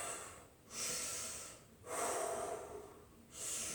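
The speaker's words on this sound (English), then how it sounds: "Breathing in through the nose, out through the mouth." Slow, deep breaths during a Pilates abdominal series come in through the nose and go out through the mouth, three long quiet airy swells separated by brief pauses and heard close with no talking.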